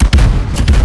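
A flashbang grenade going off in Call of Duty Modern Warfare, a very loud, close, sharp double bang in under a second, with no voices.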